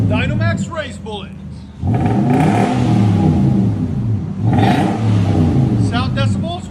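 A 2011 Nissan Titan 5.6L V8 SV Texas Edition with its muffler cut off and a Dynomax Race Bullet exhaust, revving up in two loud surges to a deep roar, with someone talking before and after.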